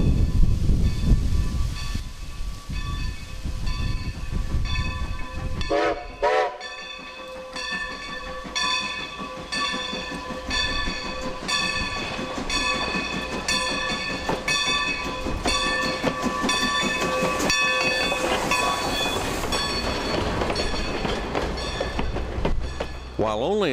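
A steam train on the Strasburg Railroad in Pennsylvania's Amish country runs past with a chuffing, clattering rhythm, a long sustained whistle and horn tones ringing over wheels and steam for most of the stretch, loud and near.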